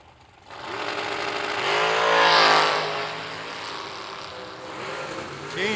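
Hellcat dragster engine at a drag race, a loud sustained roar that swells to a peak and then holds steady, with a crowd and track noise around it.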